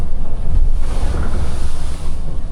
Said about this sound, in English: Yeah, it's a big wave. Big waves.